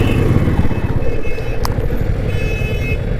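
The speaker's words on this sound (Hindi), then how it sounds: "हल्का फुल्का जाम है, हालांकि बाइक आसानी से निकल जा रही है।" Motorcycle riding through a light traffic jam on a hill road near Bhavali, India: a steady loud engine and road rumble with wind, a brief sharp horn-like tone midway and faint tones from other vehicles.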